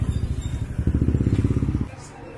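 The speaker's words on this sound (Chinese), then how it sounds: "有很多地方摩托车特别多，随时都要小心这个摩托车呢" Motorcycles on a street in Nepal, a close engine putter with rapid pulsing that runs strongly for nearly two seconds, then drops away to quieter street noise.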